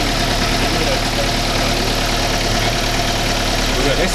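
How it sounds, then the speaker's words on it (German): Car engine idling during a timing chain check in a workshop, a steady close mechanical hum and chug holding even and loud throughout, with a voice faintly mixed in. "Aber wir sollten den Motor wieder abschalten."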